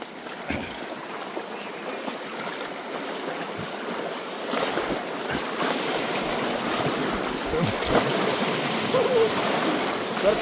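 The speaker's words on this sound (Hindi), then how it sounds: "पानी तो नॉर्मल है, बहाव तेज है" Fast-flowing monsoon river water at a jungle crossing near Rajaji Tiger Reserve rushes in a broad, steady hiss that slowly grows louder, with splashes and faint voices now and then.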